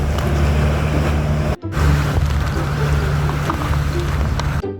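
Loud, continuous rush of water and wind around a moving boat near Sombrero Island in the Burias islands, with a steady engine drone underneath and a brief dropout midway.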